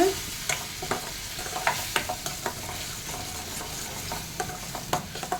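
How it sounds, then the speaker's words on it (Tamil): Vegetables for veg kurma are sautéed in a pan, with a soft continuous sizzle broken by repeated scraping and clinking strokes of a spatula stirring the mixture, close and clear. "நல்லா வதக்கிக்கலாங்க."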